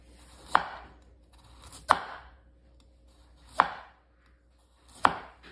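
Knife chopping carrots on a cutting board: four sharp, isolated chops spaced about a second and a half apart, close and clear against a quiet kitchen.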